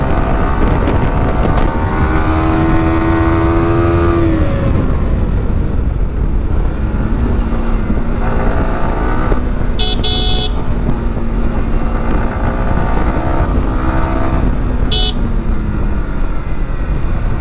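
A 2021 Yamaha R15M motorcycle accelerates hard on a test ride, its engine note rising repeatedly through the gears with brief drops at each shift, under steady heavy wind rush on the microphone.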